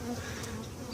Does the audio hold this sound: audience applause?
no